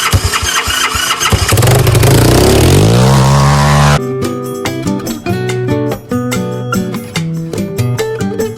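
A gas-powered mini bike engine cranks and catches, rising in pitch, then settles into a loud, close, uneven sputtering run with no one speaking.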